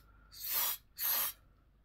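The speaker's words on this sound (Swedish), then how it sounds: "Som jag då ska försöka spraya in i den här ballongen." Two short, close bursts of silicone-free mold release spray are aimed into a balloon, each hissing for about half a second with a brief pause between, no talking.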